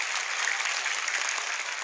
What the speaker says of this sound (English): Let's give them a round of applause for being here.